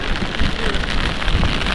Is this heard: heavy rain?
yes